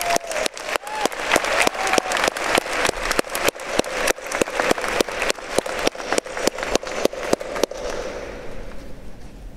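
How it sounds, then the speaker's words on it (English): An audience at a university diploma and awards ceremony applauds PhD graduates, a loud sustained round of clapping from many hands that fades near the end. "Please join me in a round of applause for all of our PhD graduates"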